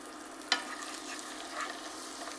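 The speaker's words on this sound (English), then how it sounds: "We're gonna add in some butter and scrape up the little bits you can see." Butter gets stirred in a skillet while browned bits are scraped up during a chicken caprese dish, giving a soft, steady sizzle with one sharp scrape of the utensil against the pan, close and fairly quiet.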